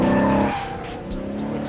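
New Aston Martin Vantage drifting on a track: engine roar and tyre squeal sweep loud and close, with a brief dip mid-slide before the engine picks up again.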